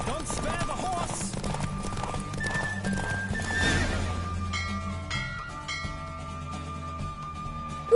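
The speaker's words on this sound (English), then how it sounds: "Don't spare the horse." A horse neighs and its hooves clip-clop at a gallop in the Witcher 3 video game, with a whinny early on and steady hoofbeats amid game music and faint talk.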